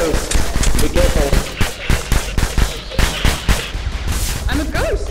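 Rapid bursts of gunfire from snipers and other players in the VR shooter Polygon, sharp repeated shots in quick clusters, fairly loud, with brief voices mixed in.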